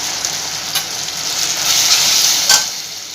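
Spices being stirred into sizzling Dhaba-style paneer bhurji, a steady bright frying hiss with a couple of soft scraping strokes of the spoon, close and continuous, with no voices.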